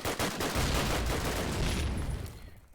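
Rapid machine-gun fire in a competitive first-person shooter match, a loud, dense burst of continuous shots lasting a couple of seconds before tailing off.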